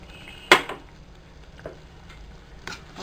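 Soya chunk biryani rice stirred in a pressure cooker, with a sharp metallic clink from the spoon and softer scraping taps that follow, heard close and quiet without talk.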